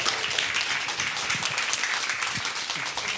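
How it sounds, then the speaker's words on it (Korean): Audience applause at a live talk concert for three speakers, a steady dense wash of clapping that stays loud and even throughout with no voices over it. "오늘 좋은 토크 보여주신 세 분께 박수 부탁드리겠습니다"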